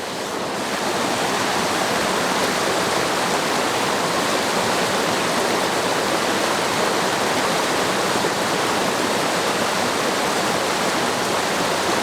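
Water streaming from a portable ITEHIL reverse osmosis drinking water purifier into an empty 30-ounce Nalgene bottle, a steady, loud, broadband rush that continues unchanged with no talk.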